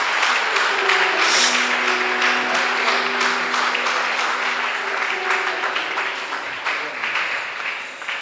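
A church congregation bursts into sustained applause, dense and steady clapping that swells early and slowly fades over several seconds, with a few voices mixed in.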